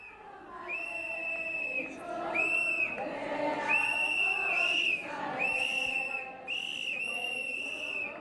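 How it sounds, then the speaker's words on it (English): Haredi women protesters blowing whistles at the Western Wall, shrill piercing blasts repeated in uneven bursts over a background crowd murmur, loud and overlapping. "Today's prayers were disrupted by noisy protesters, with many Haredi women blowing on whistles"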